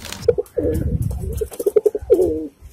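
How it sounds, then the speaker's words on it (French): A pigeon coos close by in a series of soft, rounded calls, first a few separated notes and then a quicker run of low coos, heard alone against a quiet background. "je pense qu'il y a quand même un petit bruit de pigeon qui se balade dans le coin"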